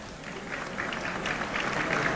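Audience applause for award winners at a formal press dinner in Washington, a steady wash of many hands clapping at a moderate level, slightly distant, building a little toward the end with no voices over it.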